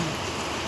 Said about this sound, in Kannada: ಒಳ್ಳೆ ಮಳೆ ಬರ್ತಿದೆ ಈಗ.